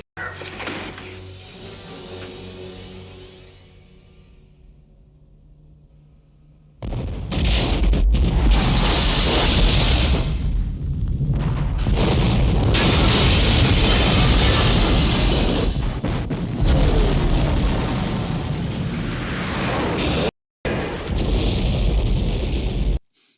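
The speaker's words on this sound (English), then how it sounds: "he blows up the bottom floor of Nakatomi Plaza, killing a few terrorists in the process" A C4 blast on the bottom floor of Nakatomi Plaza in the 1988 film Die Hard erupts as a sudden loud boom. A long, roaring rumble and crashing debris follow, after a quieter, tense stretch.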